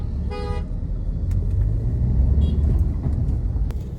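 Car horns honking amid a traffic jam on a busy road, with one clear horn blast near the start over a steady low rumble of engines and traffic.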